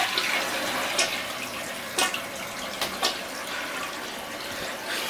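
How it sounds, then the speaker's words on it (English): A clogged toilet flushes after being plunged, giving a steady rush of water and hiss of the filling tank with a few sharp gurgles and clunks, close and continuous throughout. "So now it's enough water for me to try and flush it again."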